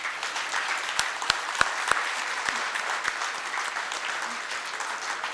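Applause from a standing audience at the Banaras Lit Fest 2025, honouring a song: a steady, dense wash of clapping with a few sharper individual claps rising above it, held at an even level throughout.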